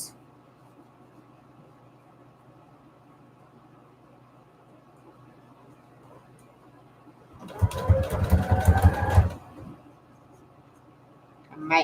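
A sewing machine stitches paper ruffles onto index cards in one rapid burst of needle clatter lasting under two seconds, loud and close after a long quiet stretch.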